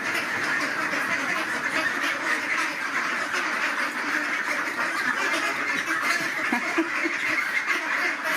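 A crowd of ducks quacks continuously close by, a dense, overlapping chorus of loud nasal calls with no voices over it.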